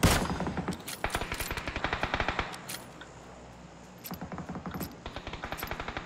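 A Vector submachine gun with a 33-round magazine fires in a video game, letting off rapid full-auto bursts of close, crisp shots, pausing briefly and then rattling off more bursts.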